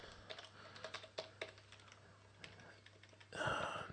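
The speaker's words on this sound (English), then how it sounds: "we're going to type in just the decrypt" Typing code on a computer keyboard gives a quiet, close run of irregular key clicks with short pauses, ending in a brief louder rustle.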